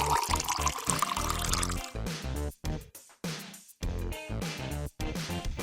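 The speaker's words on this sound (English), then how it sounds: "Dilute it with water till you get a thick consistency." Water is poured into a box of mold mix to thin it to a thick consistency, giving bursts of splashing and trickling broken by short pauses, close and fairly loud, with no voices.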